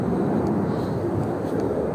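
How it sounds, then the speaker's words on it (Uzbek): An airplane flies overhead in the Netherlands as a steady, loud broadband rumble that holds for the whole two seconds without pause. "Bala samolyotlar ko'payib qoldi-ya."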